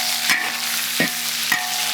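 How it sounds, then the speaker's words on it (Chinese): Chili peppers and Sichuan peppercorns frying in a wok with hot caramelized sugar for braised pork belly, giving a steady close sizzle broken by four sharp stirring scrapes of the spatula at even intervals. "加辣椒和花椒下去啊"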